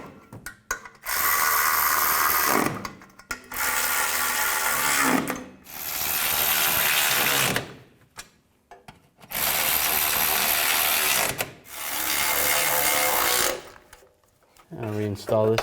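A ratchet tightens suspension nuts on a 2004-08 Nissan Maxima rear upper control arm: loud, close bursts of whirring, clattering drive, each lasting about two seconds, repeated four times with short pauses between.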